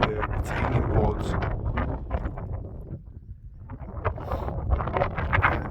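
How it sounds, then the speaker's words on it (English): Strong 20-25 mph wind gusts buffet the microphone at 654 metres on the Kinder Scout moorland plateau with a loud, continuous roaring rumble that briefly eases before surging again. "there's gusts blowing, I don't know, 20-25 mile an hour."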